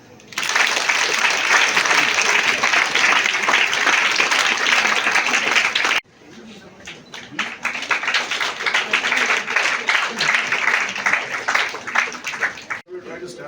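Dense, loud applause from an audience at the launch of an Empowering Youth program at MVSR Engineering College fills the first six seconds, then continues as thinner, scattered clapping until the end.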